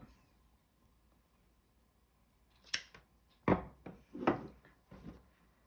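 Scissors cutting fabric straps, several crisp close snips spaced irregularly after a quiet stretch, some in quick pairs, against a soft background.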